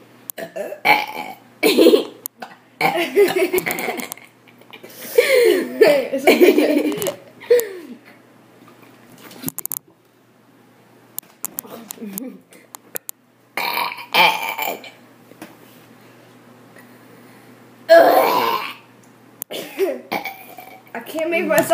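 Person forcing out a series of burps and coughs, loud and close, separated by pauses, with some talking and giggling in between.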